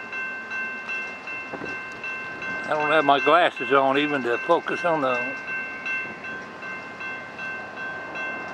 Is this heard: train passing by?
yes